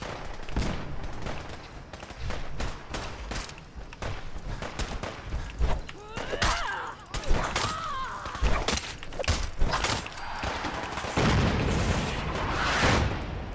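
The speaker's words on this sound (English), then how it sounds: "I think it's grenade time. Throw that sucker." Grenade blasts and gunfire crackle through a Fallout 4 battle, with sharp bursts and booms scattered across the scene and a loud, dense barrage building toward the end.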